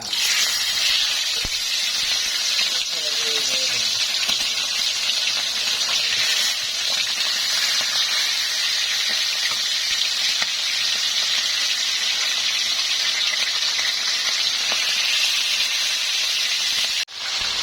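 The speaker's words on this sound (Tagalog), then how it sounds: "At tayo ay magpiprito na." Tilapia fish frying in hot cooking oil, a steady loud sizzle and hiss that holds continuously throughout, with faint clinks of a utensil and no talking.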